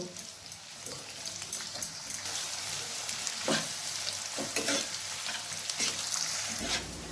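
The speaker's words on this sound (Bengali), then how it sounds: "এখানে আমি পেঁয়াজগুলো তেলে দিয়ে দিচ্ছি।" Onions sizzle in 4 to 5 spoonfuls of hot white cooking oil while preparing chicken korma, a steady crackling hiss with sharper spatters and occasional stirring scrapes, close and fairly loud.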